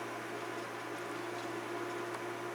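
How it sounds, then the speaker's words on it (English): A heater blows steadily inside a greenhouse, a constant broadband whoosh with a low electrical hum underneath, fairly quiet and unbroken throughout with no talking. "The noise you can hear is the heater blowing"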